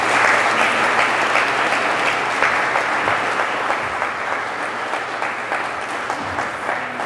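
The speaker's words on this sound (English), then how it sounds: "Give them a round of applause" Steady applause from an audience thanking presenters after a round of pitch presentations, dense and sustained at an even level throughout.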